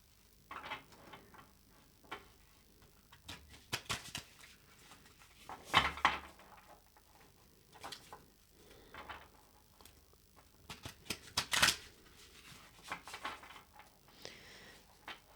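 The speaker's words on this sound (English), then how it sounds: "And now I'm going to pull out some cards for how this will be expressed throughout this week." Tarot cards are shuffled and pulled one by one, heard as faint, scattered clicks, taps and papery flicks spread across the stretch, with a couple of sharper snaps standing out.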